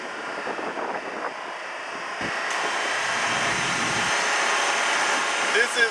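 A CNG pump filling the compressed natural gas tank of a 2013 Chevy Silverado 2500HD: a loud, steady rushing hiss that swells partway through and then holds, with a faint murmur behind it.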